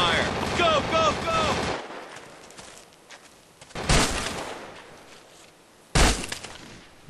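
Covering gunfire in the Vietcong video game: a rattling burst under shouted talk at the start, then two loud, separate blasts of fire come later, with quieter background noise between them.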